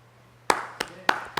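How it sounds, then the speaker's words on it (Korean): Four sharp, evenly spaced claps from a congregation during a church sermon, fairly close and distinct, with no talking over them. "박수 쳐드리고 싶어요."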